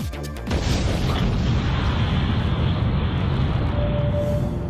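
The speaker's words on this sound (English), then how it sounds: "The Ballboard Casino has imploded to make space for MGM's city centre" The Boardwalk casino in Las Vegas comes down in a building implosion demolition, with a rapid burst of cracks followed by a long, loud, continuous roaring rumble of collapse.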